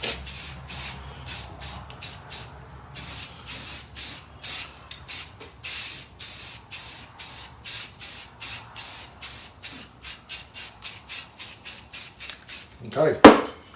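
Satin black Rust-Oleum spray paint going onto a car part in many short hissing bursts, close and loud in a steady rhythm of trigger pulls, ending with a brief clunk.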